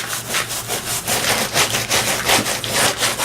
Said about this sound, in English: you can take a scrub brush and it's hard enough to scrub it off